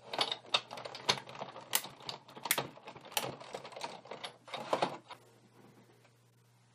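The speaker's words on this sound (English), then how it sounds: "we are going to sandwich this in and run it through the Big Shot." Stampin' Up Big Shot die-cutting machine cranked by hand as a die and card stock pass through, a close, rapid series of clicking ratchets and clunks that stops partway, leaving a low hum behind.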